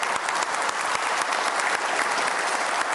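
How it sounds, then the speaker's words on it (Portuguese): Applause fills the plenary of a solemn legislative session, a dense, lively burst of many hands clapping at close range, steady and without speech. "peço nesse plenário uma salva de palmas"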